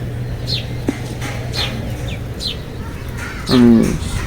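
Short pigeon calls chirp at intervals against a steady low hum, with a louder throaty coo-like call near the end.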